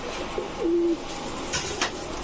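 Putul Gorra pigeons give a short, clear coo that holds briefly before fading, followed by faint rustling in the background.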